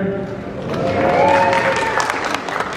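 Audience applause in a hall, moderate clapping swelling in the middle and thinning toward the end, mixed with scattered crowd murmur and a faint tonal hum.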